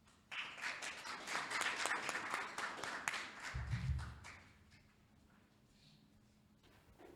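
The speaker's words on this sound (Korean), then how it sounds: "큰 박수로 맞아주시기 바랍니다." An audience at a Daedeok Innopolis forum applauds a professor taking the stage for a lecture, a lively wash of many hands that swells briefly and then dies away into a quiet hall.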